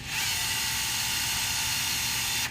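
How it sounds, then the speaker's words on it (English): Steady high-pitched whirring of a small lunar rover's electric motor, continuous and close, with a low rumbling rattle underneath, in a test lab. "This is the sound of a little rover."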